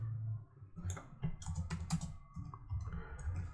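Computer keyboard typing in a short, irregular burst of clicky keystrokes, fairly close and clear, with no voices.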